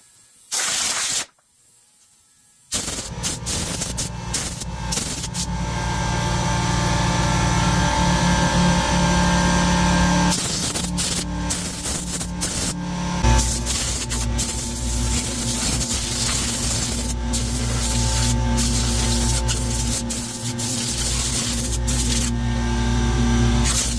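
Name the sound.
compressed air blowing cobwebs and dirt off an old push mower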